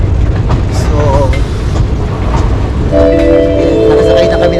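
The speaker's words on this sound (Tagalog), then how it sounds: "nakasakay na kami ng tren" Rail travel scene with a steady low rumble of a moving train under background chatter, then a sustained tonal horn-like sound near the end, all heard from on board amid ambient crowd noise.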